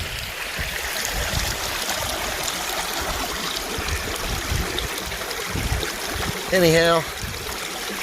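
Creek water rushing and trickling through a gold prospecting sluice outdoors, a steady broadband wash that runs throughout, with someone speaking briefly over it near the end.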